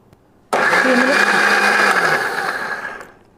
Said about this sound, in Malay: Mula-mula Kak Cik akan kisar ya bahan-bahan yang tadi tu sampai halus ya.